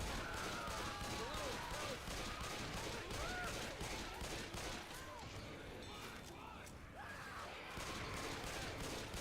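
Pistol shots and chaotic combat in Left 4 Dead, with dense, continuous firing over a steady wash of game noise, fairly faint overall, under talk.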